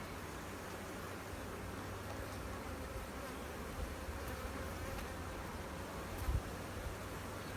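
Honey bees swarm around an opened beehive during an inspection, producing a dense, steady buzzing drone that fills the whole stretch, with occasional faint knocks and rustles.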